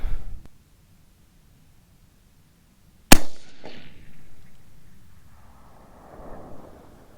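A single 6.5 Creedmoor rifle shot firing a 123-grain Sierra handload outdoors in daylight: near-silence, then one sharp, very loud report with a short, rumbling echo tail fading away.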